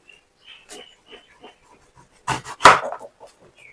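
A knife cuts through a kumatti gourd fruit, giving two close, heavy chopping thuds with crunchy splitting after a stretch of faint scraping and handling.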